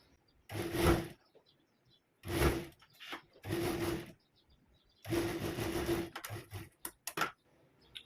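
A sewing machine stitches a kurti in bursts: several separate runs of fast mechanical whirring, each a second or so long, broken by short pauses and a few quick clicks near the end, fairly close and with no talk.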